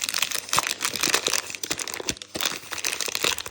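Plastic packets from an LOL Surprise Pastel Party doll box crinkle and crunch loudly and continuously up close, with bursts of rustling and crumpling handled by hand.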